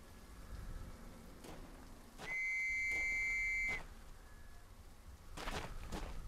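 A single sustained whistle blast, about one and a half seconds long, sounds in the WW1 horror video game Trenches over a steady rain-like wash of ambience with faint footsteps before and after.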